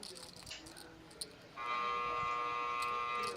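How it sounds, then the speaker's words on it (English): At a poker tournament final table, a steady electronic buzzer sounds loud and continuous in the second half, following quieter room murmur and scattered clicks. "That is the buzzer that you hear."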